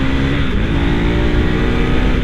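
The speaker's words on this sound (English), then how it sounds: "Kind of lugging it out of 4th there." A 2025 KTM 390 Adventure R motorcycle engine lugs in fourth gear, a steady, loud, low drone that hums under heavy wind rush throughout.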